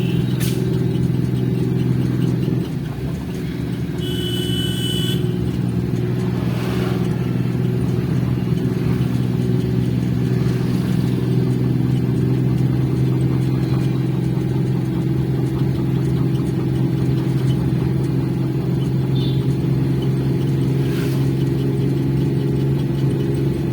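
A car engine idles and runs with a steady low hum and light rattle throughout a driving lesson, constant and close, with no talking.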